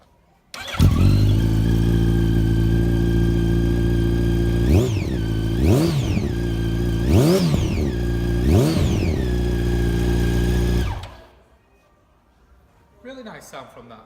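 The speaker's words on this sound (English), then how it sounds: "Really nice sound from that Acro exhaust" A 2013 Yamaha FZ8 motorcycle with an Akrapovic exhaust fires up close by and settles into a steady idle, broken by four sharp throttle blips before the engine cuts off, leaving brief faint sounds afterward.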